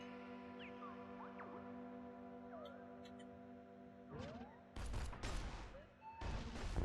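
Gunfire in the Caves of Qud video game: after a steady hum, a burst of sharp broadband shots starts near the middle, with a second loud cluster later, fairly close and prominent.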